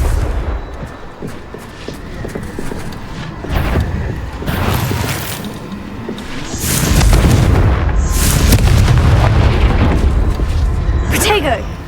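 Confringo blasting-curse explosions in the Hogwarts Legacy video game: a series of heavy, booming blasts with crackling bursts, clustered and loud, over rumbling game ambience and some voices.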